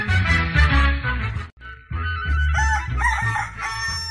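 A rooster crows loudly and close, followed after a short pause by another long crow, with no talk.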